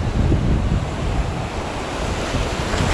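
Steady roar of ocean surf with waves crashing continuously, loud and close, mixed with wind rumble and no voices.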